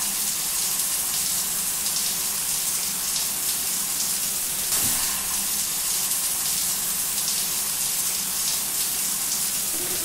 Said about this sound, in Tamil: இன்னும் கொஞ்சம் நிறைய தண்ணி ஊத்து